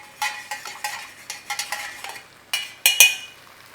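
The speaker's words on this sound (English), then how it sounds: "Nice little stir in." Beef broth being stirred into a creamy meatball sauce in a pan, heard as a close series of rhythmic scraping and clinking spoon strokes, ending with a couple of sharper knocks, with no talk.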